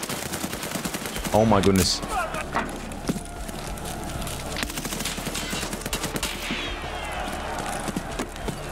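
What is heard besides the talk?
gunfire in video game Escape From Tarkov Arena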